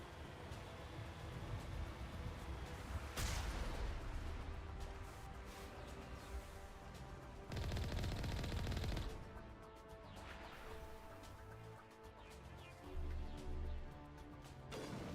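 Artillery and gunfire in the game Mass Effect, a dense continuous barrage of blasts and rumbling booms with louder surges, steady and without talk.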